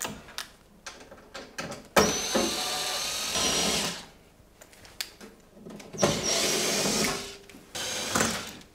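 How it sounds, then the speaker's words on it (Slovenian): Screws are being backed out of a tumble dryer during a capacitor replacement with a power screwdriver, which whines in three separate bursts of one to two seconds each, with handling clicks and knocks in the pauses between them. "imamo tukaj zdaj 1, 2, 3, 4 vijake, ki jih je potrebno odviti"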